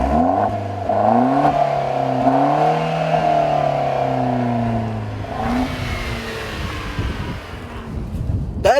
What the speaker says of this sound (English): That is an actual Borla exhaust, and it is part of an option for this car